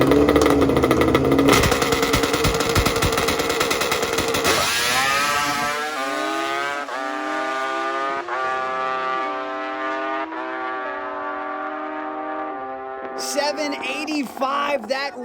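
A two-stroke drag motorcycle makes a record run at a race meeting, its engine roaring loud and raw at first, then settling into a strong, high, tonal whine that carries steadily to the end.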